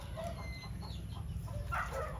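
Farm chickens clucking softly in short scattered calls over a steady low background hum, fairly faint and moderately distant.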